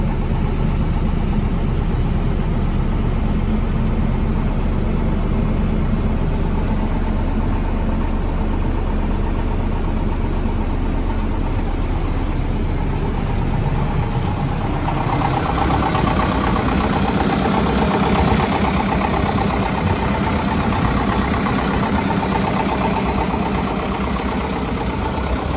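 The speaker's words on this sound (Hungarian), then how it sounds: "A gépben egy 4 hengeres GCB motor van, 75 ló leadására képes." A JCB 3CX Eco backhoe loader's 4-cylinder engine idles steadily and loudly up close, a constant low rumble that thickens partway through, with no talk over it.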